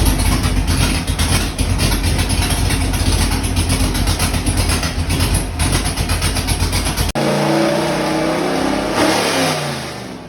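A 1967 Corvette 327 small-block V8, bored 30 over, runs loud and close, revving hard with a rough, throbbing idle, then cuts abruptly and settles into a lower, quieter rumble.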